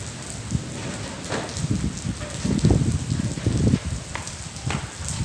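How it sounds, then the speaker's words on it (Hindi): Heavy rain pours down in a Punjab village, a dense close hiss of drops pattering on surfaces with low, uneven thuds swelling in the middle. "बारिश मज़ीद तेज़ हो रही है"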